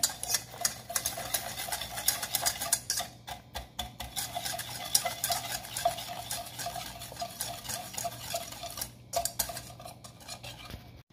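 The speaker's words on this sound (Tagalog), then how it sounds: "paghaluin natin yung brown sugar natin at saka yung melted butter. Haluin natin mabuting." Brown sugar and melted butter being stirred together in a bowl: irregular scraping and light clinking of a utensil, fairly quiet and close, with no speech.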